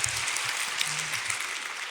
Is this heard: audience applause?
yes